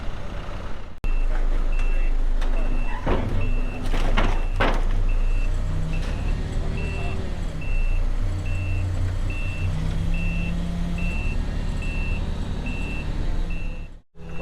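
A forklift moving around a farm shed yard, its reversing beeper sounding a regular repeating tone over a steady engine rumble, with clanks and knocks early on and a few voices underneath.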